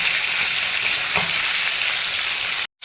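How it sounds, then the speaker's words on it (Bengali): Magur catfish fries lightly in hot oil, giving a loud, dense, continuous sizzle close by. The hiss drops out for a split second just before the end. "মাছগুলোকে কড়া করে ভাজা হবে না হালকা করে ভেজে নিতে হবে"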